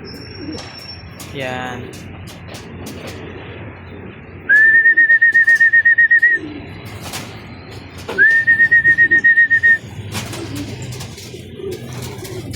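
Homing pigeons in a loft give soft cooing and chirps, while two sustained bursts of high whistling stand out loudly; someone speaks briefly near the start over the birds.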